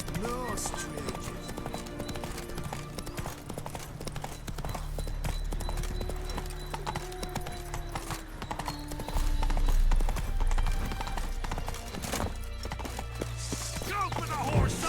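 Rapid clip-clopping horse hooves run throughout in the video game The Witcher 3, with a horse whinnying and voices shouting over the galloping.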